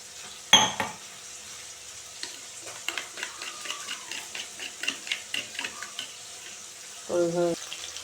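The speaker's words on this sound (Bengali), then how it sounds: "এখন একটু জল দিয়ে দেব জল দিয়ে মশলাটাকে তৈরি করে নেব" Spice masala of Kashmiri chilli frying in a pan sizzles softly while a run of light, close stirring clicks taps along; a sharp splash of water hits early, and a short clatter comes near the end.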